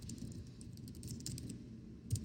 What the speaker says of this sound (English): I can type in our own level descriptors that we have here at Fredonia